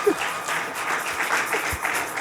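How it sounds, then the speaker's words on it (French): A church audience applauds Pastor Viviane, a dense continuous wash of many hands clapping at a moderate level throughout, with no voices over it. "Pour ça, pasteur Viviane, on ne peut qu'applaudir."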